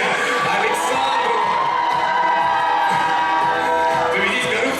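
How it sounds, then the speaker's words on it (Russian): A student audience at a university pageant's intellectual contest applauds contestant Alexander, a dense, continuous wall of clapping and cheering filling the hall throughout. "Аплодисменты, друзья, Александру!"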